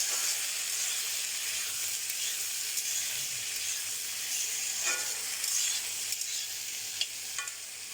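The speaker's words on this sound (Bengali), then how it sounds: "ভাজবো ভালো করে।" Soaked chickpeas frying and being stirred in a pan, a steady close sizzle and hiss with occasional scrapes and clinks, no talking.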